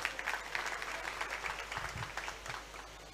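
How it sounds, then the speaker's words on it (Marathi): A crowd at a political public gathering claps, a steady, fairly distant patter of applause for several seconds that thins out toward the end. "राणे साहेबांसाठी, निलेश राणेंसाठी जरा जोरदार टाळ्या झालेल्या पाहिजे."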